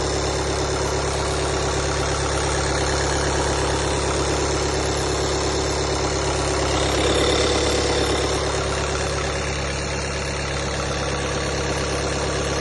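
A car engine idles steadily with a broadband mechanical hum and low rumble, its speed drifting slightly and swelling briefly around the middle; no one speaks.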